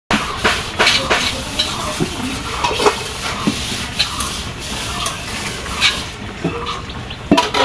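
Taro pieces coated with ginger, garlic, turmeric, chili and salt fry in a pan, sizzling and spattering while being stirred, with repeated sharp scrapes and clatters of the utensil throughout.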